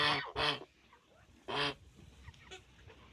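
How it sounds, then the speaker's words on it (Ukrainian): Three loud, nasal goose honks sound close by, two in quick succession and one after a pause, with quieter calls trailing. "та як гусечка сісюкається, а це як гусак."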